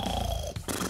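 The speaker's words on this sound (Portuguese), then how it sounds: "Tá roncando." A brief, low, rough snore, loud and close, with a short break in the middle.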